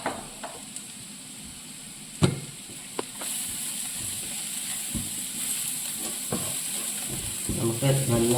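Turmeric and Kashmiri chilli powder are stirred into sautéed onions in a frying pan, giving a steady hissing sizzle broken by utensil scrapes and knocks against the pan. A sharper clack stands out early, and brief voice sounds rise near the end.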